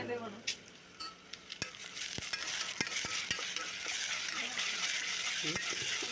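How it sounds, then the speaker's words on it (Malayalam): Onions frying in a pan with crushed ginger, garlic and green chili, for a dry-roasted beef dish, sizzling steadily with repeated sharp clicks and scrapes of a spoon stirring close by. "ഇഞ്ചി വെളുത്തുള്ളി പച്ചമുളക് ചതച്ചതാണ് അത് ഇതിക്കനെ ഇട്ട് കൊടുക്കുന്നുണ്ട് അപ്പം അത് ഇട്ട് അതും കൂടെ അതിൻ്റെ പച്ചമണം മാറി വരുമ്പോൾ നമുക്കത് അതൊന്ന് ഇളക്കി കൊടുക്കണം"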